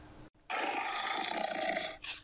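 Tiger roar played from a 3D animal viewer, a single loud, rough, sustained roar lasting about a second and a half after a short pause.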